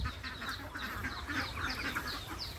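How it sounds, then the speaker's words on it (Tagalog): A duck kept among a flock of ducklings quacks repeatedly in short, rough calls, fairly faint and close, over a soft background hiss. "May isang pato dito yan."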